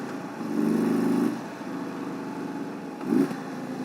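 Indian Super Chief Limited motorcycle engine rumbling while riding through corners on a hot day, a steady low drone that swells in two brief revving bursts, loud and close with no talk.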